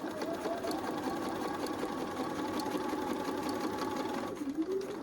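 A sewing machine stitches quilt fabric in a steady, even whirring hum that runs close and loud throughout, slowing slightly near the end.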